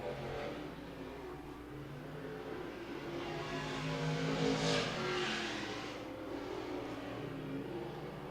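Stock race cars roar around a dirt oval at Thunder Mountain, engines droning at a distance and swelling as the pack passes nearer midway, then fading back to a steady hum.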